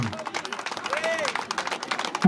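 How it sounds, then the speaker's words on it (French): An audience clapping for a performer at a show, a quick patter of hands heard under a voice speaking French. "on l'applaudit très très fort"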